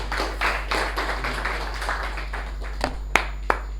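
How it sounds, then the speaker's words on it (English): Applause from a Toastmasters meeting audience, a dense patter of many hands clapping through the room that thins out toward the end into a few separate sharp claps. "Please give him a big round of applause."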